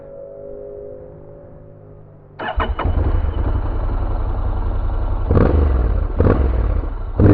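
A Honda NC750XD DCT motorcycle cranks and fires up, settling into a loud, deep, steady idle rumble with a couple of throttle blips; a quieter hum runs beforehand.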